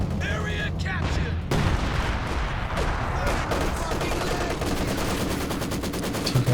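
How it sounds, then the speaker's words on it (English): An anti-tank gun fires repeatedly in the World War II strategy game Company of Heroes 2, sharp cracks and booms at close range mixed with rattling machine-gun fire and battle noise, with a commentator speaking over it. "The AT gun. Missing a lot of shots."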